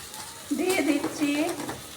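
A pan of elephant foot yam curry, seasoned with garam masala, salt and a little sugar, gets stirred in a brief burst of scraping and soft sizzle against a steady background hiss.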